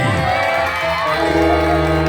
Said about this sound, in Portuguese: Eu quero ver as palmas para esse casal aqui, as palmas.